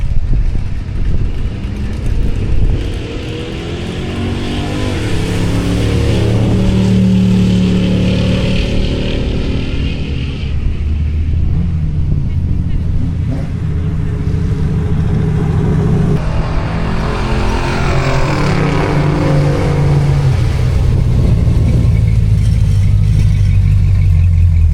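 A high-horsepower unibody drag race car making a pass at a drag strip produces a loud, sustained engine roar with rising tones as it accelerates. The sound stays heavy and rumbling for a long stretch and is heard alone without speech.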